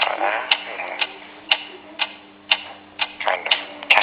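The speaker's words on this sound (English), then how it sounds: "What is that mysterious ticking noise?" A mysterious steady ticking, about two sharp clicks per second, close and regular, layered over a buzzy tonal background hum.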